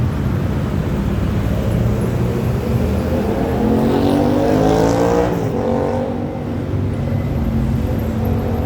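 Dense road traffic on Rama IV Road in Bangkok roars steadily nearby, with engines rising and fading as vehicles pass in a continuous loud wash of noise.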